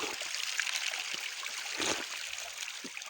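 Cold spring water runs steadily from a mountain spring in a Kashmir valley, a continuous close trickling and gurgling stream with no voices.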